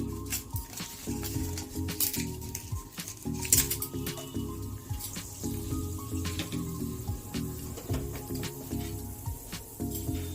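Whole garam masala spices and torn bay leaf sizzling in hot oil in a pan, a steady crackling fry with soft popping and spatter, close and continuous.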